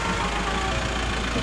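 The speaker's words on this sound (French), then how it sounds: "Voilà Axel qui arrive avec sa camionnette." Van pulling up with its engine running, a steady low rumble with a faint rattle, moderately close and continuous with no talk over it.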